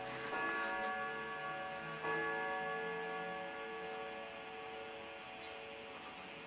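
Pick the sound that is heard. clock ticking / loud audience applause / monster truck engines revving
clock ticking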